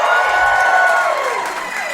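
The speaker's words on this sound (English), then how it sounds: "Round of applause if you've ever heard our show Do Go On before." A live comedy podcast audience in a venue bursts into loud cheering and whooping with applause mixed in, a dense crowd roar that tapers off slightly.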